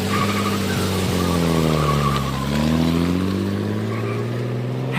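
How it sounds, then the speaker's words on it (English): A bus speeding off: a loud engine revs with a swooping, rising and falling pitch alongside squealing tires, holding strong and steady throughout with no talk. "and the bus takes off."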